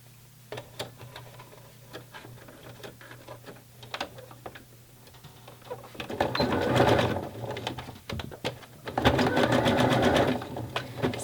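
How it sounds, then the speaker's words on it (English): A sewing machine top-stitches fold-over elastic on a wrap-around bra with a 3-step zigzag stitch, running in short rapid ticking bursts at first, then two longer, louder stretches of steady whirring, close by with no talk. "top stitch along the fold over elastic"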